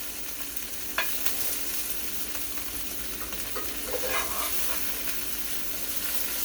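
Broccoli and peppers fry in a pan with a loud, continuous sizzle and hiss, broken by a few soft knocks and shuffles as the vegetables are tossed and flipped.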